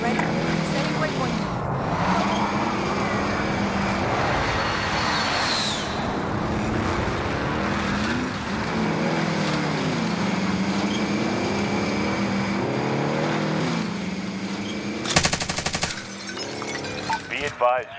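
Vehicle driving in Call of Duty Warzone, a steady engine drone with wavering pitch as it accelerates and shifts, with occasional thumps and a sharp crashing burst near the end, under intermittent voices.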